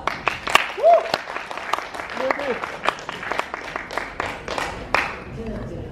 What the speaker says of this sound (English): first let's give them one more round of applause